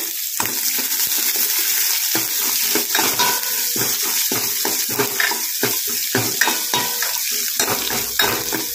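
Loud sizzling and crackling as onions fry in a hot pan for drumstick leaf soup, broken by repeated scraping stirs at an uneven rhythm, close up with no talking.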